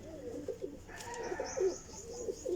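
A Sialkoti Jonsira pigeon gives a few faint, low coos over a quiet background, with one brief sharper chirp in the middle.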